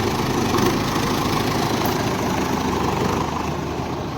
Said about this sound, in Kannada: ಹೊಸ ಟ್ರ್ಯಾಕ್ಟರ್ ನೋಡ್ರಿ